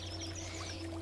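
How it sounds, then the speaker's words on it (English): Water pours in a steady, soft splash while plants are watered in a narrative adventure game, heard briefly over a low background hum. "So I have to fill the water."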